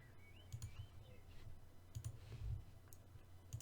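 A few faint computer mouse clicks while setting up checkpoints in race management software, isolated soft taps spread over a quiet, slightly noisy room background.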